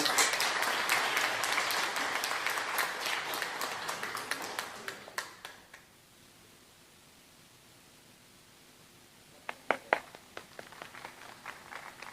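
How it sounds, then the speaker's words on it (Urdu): Loud applause greets an honoree at an award ceremony during a mushaira and book release, dense for five seconds, then dying into near silence before a few scattered claps return near the end. "بہت بہت زوردار تالیوں سے استقبال کریں"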